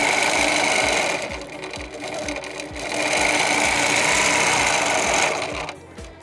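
Steady, fast stitching from a nearby sewing machine, its needle thumping in a regular rapid rhythm, running loud and continuous for several seconds before stopping abruptly near the end.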